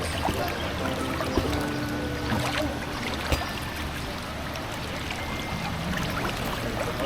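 A steady rushing waterfall in a Paw Patrol video game, a continuous soft watery hiss with faint game sound effects and a couple of light clicks over it.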